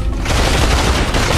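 A short, loud, dense burst of gunfire in a shooting video game, a continuous close barrage with no talk.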